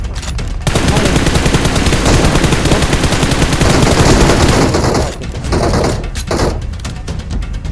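Gunfire in the PUBG Mobile battle game: loud, dense bursts of rapid automatic shots that continue almost without pause for several seconds, then briefly thin out before picking up again.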